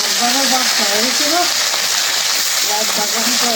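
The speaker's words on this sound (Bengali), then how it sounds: "মাছ ভাজতেছি" Bata fish frying in hot oil, a steady loud sizzle filling the whole clip with a voice talking over it.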